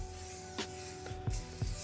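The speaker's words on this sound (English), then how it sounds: "we're just going to give it a good spray" Rice bran oil is sprayed onto a rub-coated lamb leg in a few short hissing bursts, quiet and close, over a faint steady hum.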